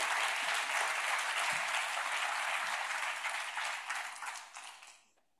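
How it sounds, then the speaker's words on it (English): A crowd at a county Teacher of the Year orientation ceremony gives a sustained round of applause for the closing speaker, dense steady clapping that thins and fades out at the end. "Let's give a big round of applause to our closing speaker"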